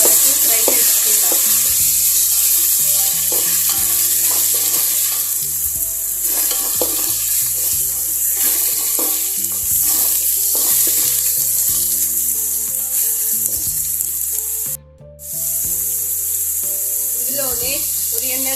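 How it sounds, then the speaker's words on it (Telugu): Ginger garlic paste and green chillies sizzle steadily in hot oil while being stirred in a pan, a constant loud frying hiss with scraping stirs and a low background tone; a brief gap interrupts it near the end. "పచ్చిమిర్చి ఫ్రై అయిన తర్వాత ఇందులో 2 స్పూన్స్ జింజర్ గార్లిక్ పేస్ట్ వేసుకుందాం. పచ్చివాసన పోయేంత వరకు ఫ్రై చేసుకుందాం."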